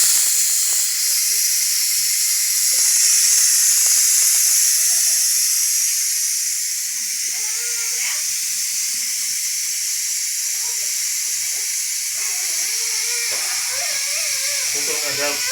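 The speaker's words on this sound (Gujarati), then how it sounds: "આપણે કુકરમાંથી હવા કાઢીને આપણે શાક આપણું ચેક કરી લઈએ" Steam hisses loudly and steadily as pressure is released from a cooker holding whole eggplants, with a voice talking faintly beneath the hiss in the later part.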